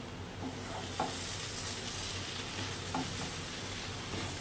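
Quiet, steady sizzle of cabbage frying in ghee, with a few soft scrapes of a spoon stirring the pan.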